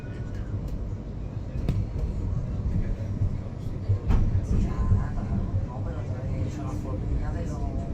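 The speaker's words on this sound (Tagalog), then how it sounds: "Dito tayo sa loob ng tren." Steady low rumble and rattling of a moving train interior, with a continuous drone and occasional clanks, faint voices in the background.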